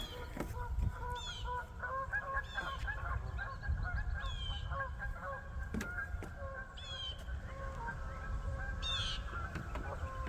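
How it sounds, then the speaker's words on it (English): Geese at a park lake honk repeatedly in a steady chorus of nasal calls, some near and some farther off, over a rumbling outdoor background with occasional bird chirps. "You hear the birds, the geese?"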